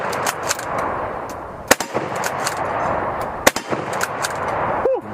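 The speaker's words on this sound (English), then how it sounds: "I'm only going to fire 5 rounds of 54 rimmed as well, because ammo is expensive right now." A rifle fires 7.62x54R rimmed rounds outdoors, with two sharp, loud nearby shots about two seconds apart over steady background noise, and a brief metallic ring at the end.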